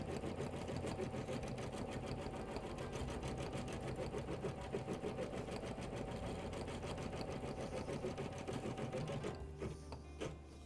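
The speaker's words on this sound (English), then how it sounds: "your Janome embroidery machine is limiting the speed at which it will embroider out" A Janome embroidery machine couching yarn runs at a steady, rapid stitching rhythm, close and continuous, then stops near the end, leaving a few faint mechanical clicks.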